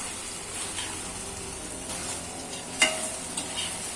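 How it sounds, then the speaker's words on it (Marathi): Soya chunks are stirred into gravy masala in a pan, a soft sizzle running under scraping spoon strokes, with one sharper clink partway through. "आता आपले जे सोया चंक्स आहेत ते आपण यात घालायचे, आणि आता हे मिक्स करून घ्यायचं आपल्याला"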